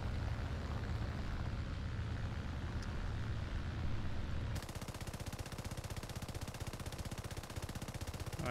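An aircraft machine gun fires in War Thunder as a rapid, even stream of shots. It starts partway through, over a constant engine drone, and there is no talk.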